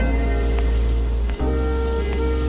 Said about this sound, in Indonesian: di malam itu hujan turun dengan sangat deras